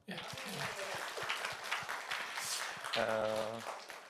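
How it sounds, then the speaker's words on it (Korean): A church congregation claps at a New Year blessing service, a burst of mixed hand claps rising over talk and murmuring voices, with a sustained voice or tone briefly cutting in near the end. "통과하신 분만 박수."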